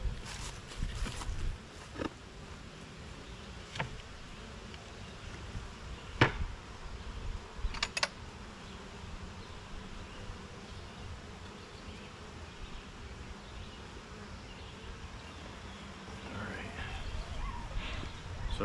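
Honey bees buzzing over a hive's honey super during a beginner hive inspection, a steady low hum close by with occasional louder passes and light handling knocks.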